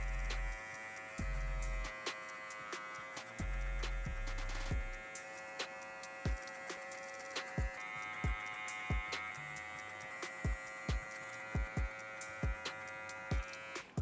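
Electric hair clippers with no guard buzz close by while cutting a mid drop fade, humming steadily in short bursts broken by clicks and brief pauses.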